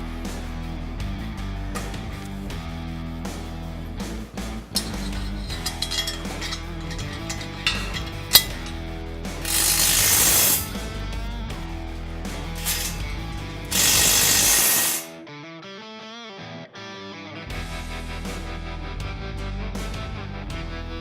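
A ratchet wrench tightens bolts on a Zone Chute frame, with rapid, continuous clicking of the pawl close by, broken by a few louder whirring bursts and a brief quieter pause.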